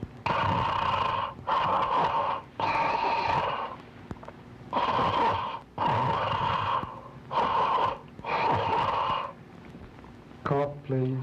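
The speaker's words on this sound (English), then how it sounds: "Snore, please" A man snores on request during a palatopharyngeal function exam: six or seven loud, rasping snore bursts in a steady rhythm, close by, followed by a brief voiced sound at the end.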